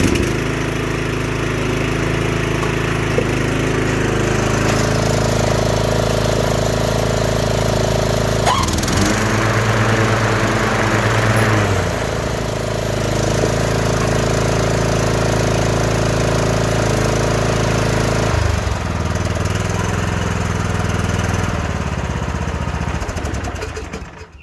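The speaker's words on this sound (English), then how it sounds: "It's the Mower engine." A Columbia riding lawn mower with a 38-inch deck and a reported charging fault runs steadily nearby, its engine giving a continuous droning hum with a brief dip partway through. No one speaks over it.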